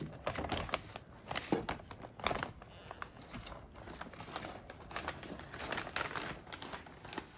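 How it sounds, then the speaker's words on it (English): A big plastic bag of potting mix is handled, its crinkling and crackling coming in uneven bursts, close and fairly quiet, with no speech. "Big bag of potting mix."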